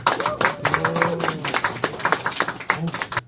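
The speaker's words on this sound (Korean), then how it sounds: "우리 박수 한번 드립니다" Scattered hand clapping rises from a small audience at an office opening for a screen park golf company, loose and uneven, with voices talking and murmuring over it throughout.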